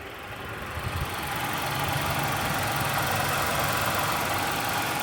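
A 2018 Hyundai Elantra engine idles steadily and fairly close, a constant rumbling drone with a slightly uneven, rough texture.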